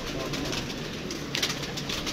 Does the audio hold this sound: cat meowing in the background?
no